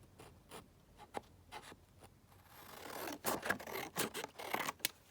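Scissors cut through teal paper in short, close snips, spaced apart at first, then a longer run of rapid, louder cuts and rustling paper, with no talking.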